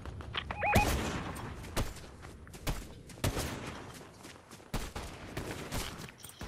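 Fortnite squads match gunfire: repeated sharp shots in irregular bursts, loud and close, with thuds and footsteps between volleys and no talking.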